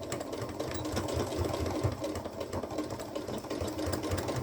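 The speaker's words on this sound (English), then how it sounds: "We're going to sew that." Sewing machine stitching along a fabric edge while making a bucket caddy, producing a steady, fast mechanical chatter of needle strokes with a low motor hum, close and continuous.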